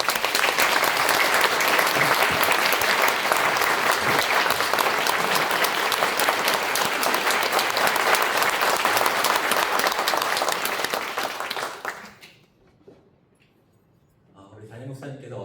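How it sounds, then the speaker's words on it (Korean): Audience applause in a church welcoming a pastor as guest speaker at a youth retreat, loud and sustained for about twelve seconds before fading to quiet, followed by the start of speech. "우리 조영민 목사님 나오실 때 큰 박수로 환영해 주시기 바랍니다."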